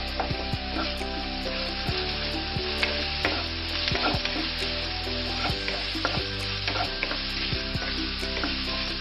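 Garlic and ginger sauté in a pan over a medium flame, a steady loud sizzle broken by repeated scraping knocks of a spoon stirring, with no voices.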